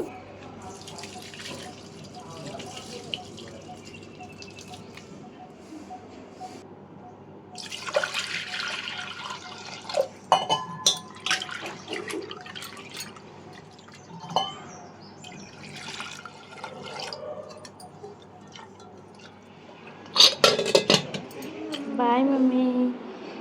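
Rice and dal washing water is poured onto plants in scattered splashes and trickles, soft at first and louder in bursts later, with birds chirping faintly in the background.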